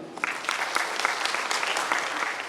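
An audience at a celebration programme in Raipur, Chhattisgarh claps in a dense, steady burst of applause, loud and continuous throughout with scattered sharper claps.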